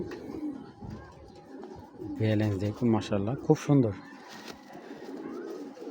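Pigeons coo in a short burst of deep, throaty rolling calls, close by, with someone talking before and after.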